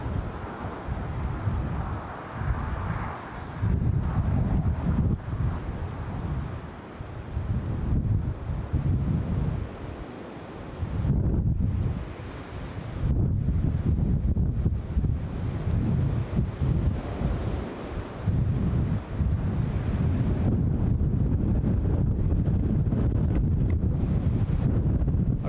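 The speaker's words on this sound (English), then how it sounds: "Right on cue, the wind's picking up." Strong wind at an airport roars and buffets against the microphone in long gusts, loud and steady for the whole stretch, with no talk.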